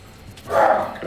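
Dogs bark once in a single short burst, moderately loud and somewhat distant, rising out of quiet background noise.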